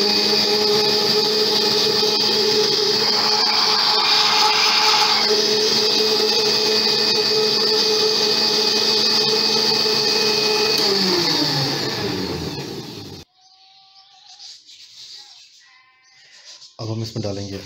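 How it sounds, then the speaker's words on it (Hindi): A blender whirs loudly and steadily as it blends iced coffee with ice, its motor pitch sagging and then cutting off; brief clatter and handling noises follow in the quiet afterward. "वंस अगेन फिर अच्छी तरह इसको ब्लेंड करेंगे।"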